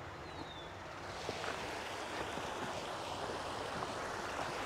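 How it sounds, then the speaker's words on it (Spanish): Water from a polluted drainage stream flows in a continuous broadband rush, steady and fairly faint, with wind-like noise and no voices. "Este caudal de agua"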